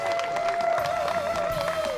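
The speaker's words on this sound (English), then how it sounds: "Let's have a nice round of applause, everybody." A crowd at a wedding celebration applauds, a dense, steady patter of many clapping hands with some cheering, held at an even level under a sustained musical tone.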